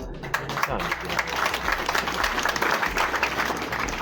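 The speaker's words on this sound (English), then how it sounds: "as you clap your hands" An audience at a political press conference applauds, a dense sustained clapping from many hands that holds steady from start to finish, with voices faintly mixed in.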